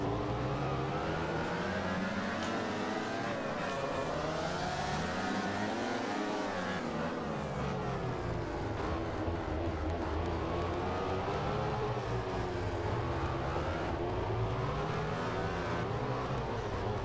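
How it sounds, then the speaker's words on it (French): Racing motorcycle engines in the MotoGP 14 video game, a continuous high-pitched whine rising and falling with gear changes and throttle, several bikes overlapping, steady and loud, with no talking. "je roule avec une moto beaucoup plus puissante"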